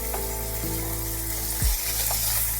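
Chicken mince, drained of a vinegar soak, stir-frying in a pan, a continuous broad hiss with a steady low hum underneath and one brief thud partway through.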